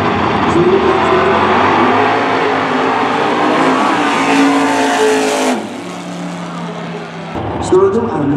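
Drag racing cars at the NHRA Auto Club Finals in Pomona, including a 1998 Firebird and a 1971 Pinto, with loud engines roaring and revving, then a sudden drop, under an announcer's talk.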